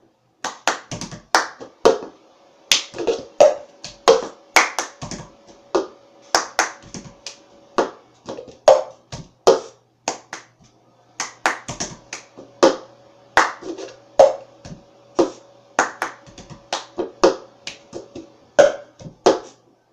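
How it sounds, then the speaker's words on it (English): A rhythmic cup song: sharp hand claps and cup taps and slaps in a repeating percussive pattern, crisp and close, played alone without voices. "Here's how the cup song looks in its entirety."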